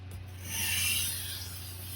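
A kitchen knife is drawn across a whetstone in one smooth, soft rasping stroke that swells and fades, close and quiet.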